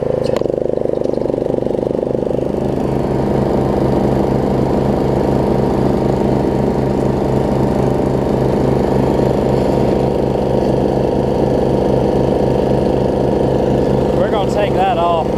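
A Snapper RER riding lawn mower engine runs steadily and loud throughout, a continuous droning rumble with a brief higher whine near the end.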